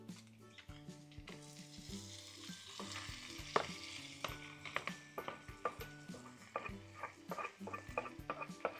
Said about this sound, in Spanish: Vamos a añadir el jitomate.